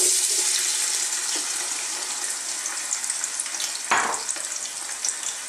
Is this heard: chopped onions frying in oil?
yes